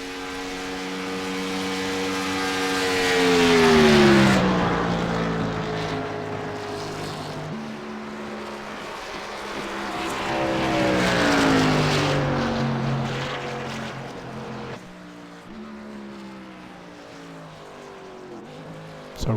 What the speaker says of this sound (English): currently 12th on the grid, pulling his car down pit lane